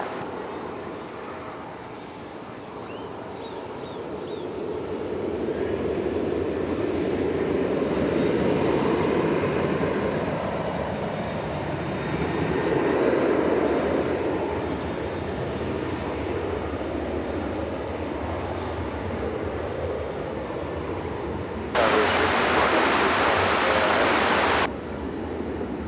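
An American Airlines jet takes off from runway 18 left at DFW Airport, its engine roar swelling and lingering as a broad rumbling wash, with a brief louder hiss near the end.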